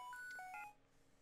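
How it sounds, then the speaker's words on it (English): An incoming phone call rings in the Pokemon Black 2 video game as a short run of bright, melodic electronic beeps. It cuts off after about half a second, leaving near silence. "someone's getting a phone call."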